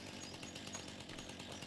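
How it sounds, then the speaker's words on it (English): Chainsaw running steadily in Farming Simulator 25, a continuous loud buzzing engine drone with no break, heard alone. "Okay, I did bring my chainsaw."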